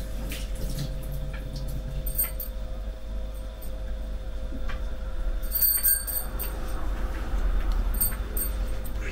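Tap water running steadily over fresh basil leaves in a kitchen, a faint continuous stream with light clinks and small drips over a low background hum.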